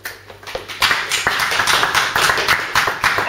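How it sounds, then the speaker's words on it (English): An audience at a comedy night claps for a few seconds, with a steady patter of hands that is moderately loud and fairly sparse, and no voices over it. "I don't think they were very happy clapping you, Ron, were they?"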